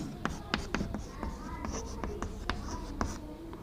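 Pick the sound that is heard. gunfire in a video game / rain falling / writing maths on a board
writing maths on a board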